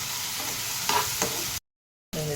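Sliced onions and grated coconut sizzle in a pan for a mushroom gravy, with a spoon stirring and scraping through the steady frying hiss, briefly cut to silence before the sizzle resumes.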